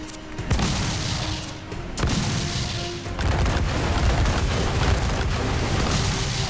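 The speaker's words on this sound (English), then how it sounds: "I think he shoots more cannons." Repeated booming ship cannon shots in Assassin's Creed IV: Black Flag, several heavy blasts over a continuous rumbling naval battle din, loud and close.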